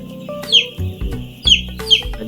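Broiler chickens in a poultry house give short clucking calls, three sharper bursts spaced across the stretch over a steady low background hum, fairly close and moderate in level.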